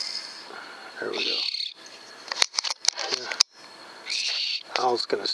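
An owl calls at night in a few loud, clear bursts separated by quieter gaps, backed by insect and cricket chirping, while someone speaks briefly in between.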